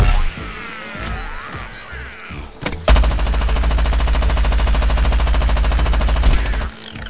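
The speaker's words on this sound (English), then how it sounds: "Who's shooting me?" Automatic gunfire in Plants vs. Zombies: Garden Warfare: a brief burst early on, then a loud, sustained stream of rapid shots running steadily for about four seconds before cutting off.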